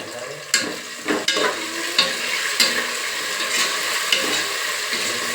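Homemade ginger garlic paste, two spoonfuls, fries in a pan for a mushroom pulao, a steady close sizzle broken by several sharp scraping stirs of a spoon.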